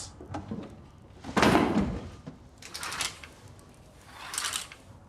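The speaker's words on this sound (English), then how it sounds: "Thought I heard someone knocking." Knocking on a door, heard as three dull, muffled thumps spread a second or so apart, with the middle one the loudest, and no talk over them.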